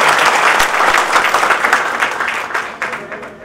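Loud, dense applause from a large audience at a music and poetry recital evening fills the whole stretch, steady and sustained before tapering slightly near the end.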